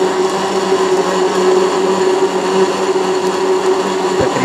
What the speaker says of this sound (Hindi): इसको ब्लेंड करेंगे 1 से 2 मिनट